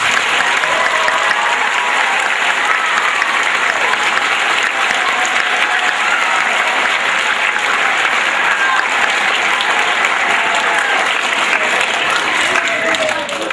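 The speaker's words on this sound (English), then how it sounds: "So we all deserve a big round of applause for that." A school assembly crowd applauds the state champion girls varsity soccer team, with dense, steady clapping that goes on loud and unbroken for the whole stretch and barely changes in level.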